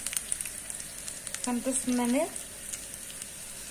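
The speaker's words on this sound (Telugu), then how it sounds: "ఇప్పుడు ఇక్కడ అయితే పోపు పెట్టుకుంటున్నాను నేను" Garlic, curry leaves, dried red chillies, mustard seeds and cumin hit hot oil for an Andhra spinach dal tempering, giving a short, loud sizzling burst midway after a brief spoken word.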